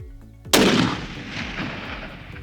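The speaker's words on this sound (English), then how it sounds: "Just squeeze slow and stay on that rifle." Single loud rifle shot at a long-range shooting session, a sharp close crack followed by a rumbling echo that fades over a couple of seconds, with no talk.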